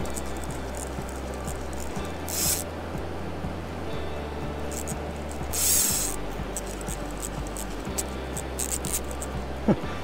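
A 3D-printed fly reel spins as a trout pulls line, making a continuous rapid ratcheting click with occasional water splashes, close and steady throughout.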